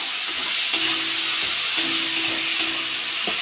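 Spice paste fries in oil with a dense, even sizzle, broken by occasional scraping strokes of stirring, close and fairly loud with no voices.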